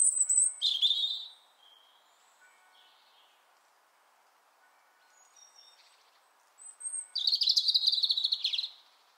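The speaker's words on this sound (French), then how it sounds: "le rouge-gorge familier" European robin singing in a garden: bright, high, thin warbling phrases in two bursts, one at the start and a longer one near the end, separated by a quiet stretch, fairly close and clear with no talk.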